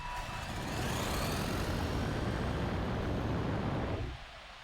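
A WLtoys 144001 1/14 scale RC buggy at full throttle: a loud, dense motor whine and rushing noise, heard close, holds for about four seconds before dropping away sharply.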